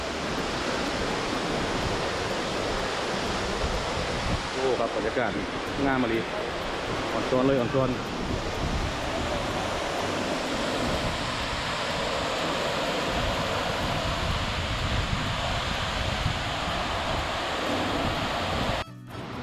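Tad Yuang waterfall near Pakxong in southern Laos, a steady, loud broadband rush of falling water that fills the scene throughout, with someone speaking briefly over it.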